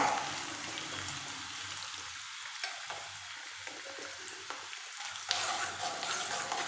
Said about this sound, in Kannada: ಎರಡು ನಿಮಿಷ ಈ ರೀತಿ ಫ್ರೈ ಮಾಡ್ಕೊಳ್ಳೋಣ